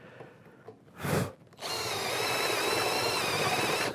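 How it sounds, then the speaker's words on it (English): A power drill countersinks a screw hole in a wooden part for a homemade spokeshave, with a brief whir, a short pause, then a steady, close, loud grinding whine into the wood that continues to the end. "we're going to countersink that so it takes the screw head"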